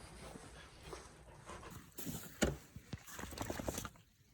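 A dog panting outdoors in falling snow beside shoveled, snow-covered cars, with quick breathy bursts and a few louder snorts and shuffles close by, no talking.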